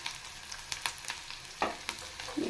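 Green chillies and onion frying in a pan for garlic tomato chutney, a steady sizzle broken by sharp stirring scrapes and spatters, with no voices.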